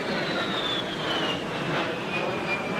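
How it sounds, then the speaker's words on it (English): A jet airliner's engine roar, loud and continuous, with a high whine slowly falling in pitch over a broad rushing noise. "I cannot listen to that jet anymore."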